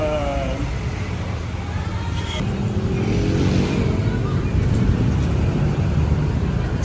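Motorized tricycle engine running on a street in Manila, a steady low rumble with engine whine that continues under the talk of people nearby.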